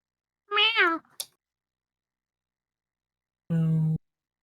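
A cat meows twice, a bright wavering call followed after a long silence by a lower, flatter, steadier one, both close and clear with no talk over them.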